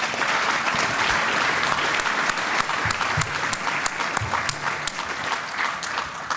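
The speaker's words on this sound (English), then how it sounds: "Let's give them a round of applause" Audience applause after a panel Q and A, a dense steady wash of many hands clapping throughout, fairly loud and sustained with no talk over it.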